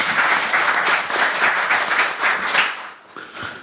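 Audience applause welcoming a speaker at an academic symposium marking the 70th anniversary of Korean liberation, a strong sustained round of many hands clapping with slight swells, tapering near the end.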